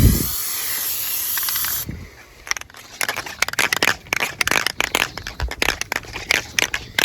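Plasti Dip sprays onto the wheels of a 2023 Toyota Tacoma with a steady close aerosol hiss for about two seconds, followed by scattered light crackles and rustling handling noises.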